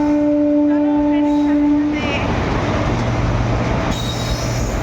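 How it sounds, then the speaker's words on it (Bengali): A train rolls past close by with rumbling wheels and metallic squealing, and a loud horn-like tone at the start that cuts off midway, near a rail crossing on the way to the Tamluk Holi fair. "আর ট্রেন এসে গেছে।"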